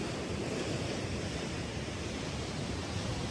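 Water rushes loudly and continuously through a canal, a dense, steady roar with no breaks, close by and filling the whole scene without any voices.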